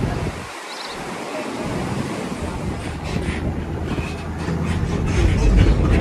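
Massive volumes of water thunder over Niagara Falls in a steady, loud broadband roar, with wind buffeting the microphone and no break in the rushing sound.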